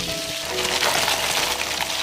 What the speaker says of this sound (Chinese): 爆香之后加入葱段、姜片，还有火锅底料